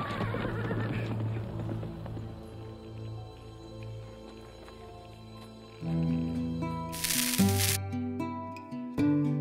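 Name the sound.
horse whinnying in a Western film scene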